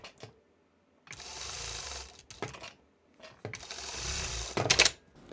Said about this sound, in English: If you are sewing on your electric home sewing machines, you may need to use jersey or stretch needle